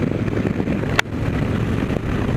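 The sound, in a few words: wind noise while riding a 2016 Harley Road Glide motorcycle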